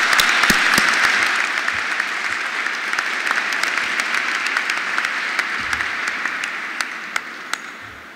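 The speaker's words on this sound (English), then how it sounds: "Give them a round of applause." At a May 2018 SUNY Polytechnic Institute commencement, the audience gives a round of applause for the band, a broad steady wash of clapping that gradually fades with a few sharp claps standing out.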